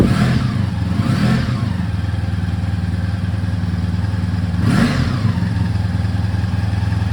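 Honda V65 Sabre VF1100S motorcycle engine idling on choke after a cold start on a cool day, a steady loud low rumble that swells briefly twice.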